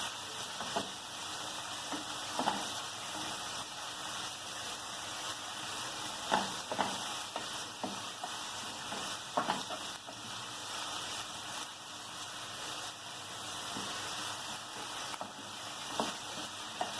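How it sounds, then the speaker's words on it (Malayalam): Vegetables with garlic and ginger stir-fried on a high gas flame for veg Manchurian, a soft, fairly quiet sizzle under repeated scraping stirs at an uneven rhythm, with no speech. "എല്ലാം കൂടെ ഒന്ന് ഇളക്കി മിക്സ് ചെയ്യുക"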